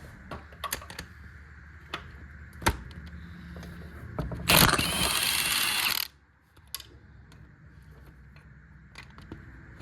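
Ratcheting wrench clicks while unbolting the engine of a 1979 Plymouth Volare wagon, sharp rapid pawl ticks spaced through the clip with a dense louder burst of mechanical rattling in the middle, close by and without talk.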